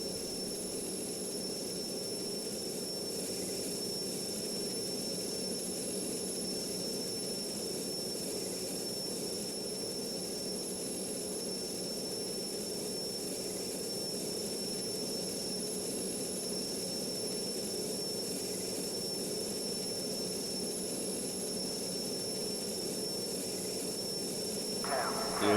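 Steady, continuous roar of a jet fighter engine held at full throttle in the flight sim Strike Fighters 2, droning evenly throughout with a faint high whine and a brief louder swell at the very end.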